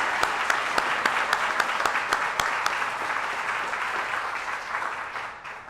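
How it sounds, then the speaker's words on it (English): A small audience claps for four election candidates at a 2018 New Brunswick meet-the-candidates event, a dense steady round of applause with a few sharper claps standing out, fading slightly toward the end. "a quick round of applause to say thank you to you four people for putting your name forward"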